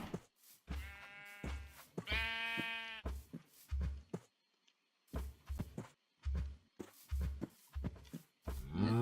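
Sheep in a video game bleating in a series of loud, close, wavering calls, with a few short gaps of near silence between them.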